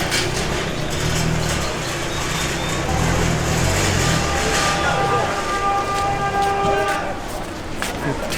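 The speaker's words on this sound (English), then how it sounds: "they're honking the horn at it" A train horn blasts loud and close, sounding in long sustained tones over rumbling rail traffic and background street noise.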